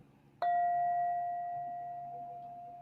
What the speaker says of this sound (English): So I'll ring the bell just to end this practice session formally.